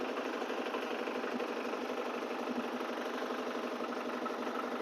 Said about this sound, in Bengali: চারিদিকে এরা দুজনে বোট চালাচ্ছে বন্ধুরা